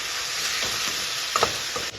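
Tomatoes fried in a pan with salt and turmeric give a steady close sizzle, with a few stirring scrapes and one brief metallic clink, no voices.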